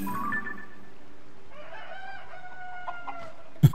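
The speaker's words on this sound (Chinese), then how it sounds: "它是一只公鸡" A rooster crows once in Zelda: Tears of the Kingdom, a drawn-out cock-a-doodle-doo sounding clear and fairly close over quiet game ambience, ending with a short thump.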